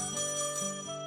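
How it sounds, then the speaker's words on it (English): An old-style telephone rings in the Trails in the Sky video game, a bright, bell-like electronic trill heard close and alone, repeating in short pulses. "Oh, that's the phone."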